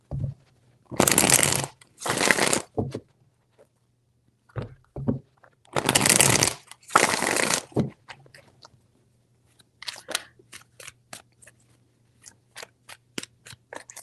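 A deck of tarot cards is shuffled by hand in several quick riffling bursts separated by pauses, followed by softer scattered taps of cards being handled, close and quiet with no talking.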